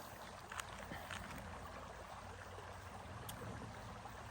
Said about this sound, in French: essaye de t'asseoir au bord d'une rivière, ça fait du bien. Regarde. Écoute le bruit de l'eau.